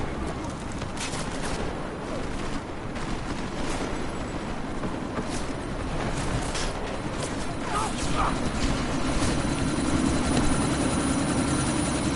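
A helicopter in the Deus Ex: Mankind Divided video game drones continuously amid a sandstorm, a dense rumbling roar mixed with bursts of gunfire and mechanical clatter, with voices speaking underneath.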